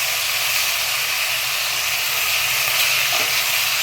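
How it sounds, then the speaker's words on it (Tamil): Steady loud sizzle of ingredients sautéing in hot oil for mutton kulambu, a dense continuous hiss close to the pan with no talking. "எண்ணெயிலே நல்லா வதக்கிட்டுக்கலாம்."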